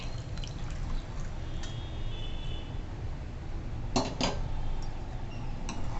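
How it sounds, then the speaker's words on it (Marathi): Water poured into a pan of Konkani-style jackfruit seed curry, a steady liquid wash with a few sharp metallic clinks of a utensil against the pot partway through, close and fairly loud. "आता आपण तुम्हाला किती ग्रेव्ही पाहिजे त्याप्रमाणे आपण येतेच पाणी टाकतोय"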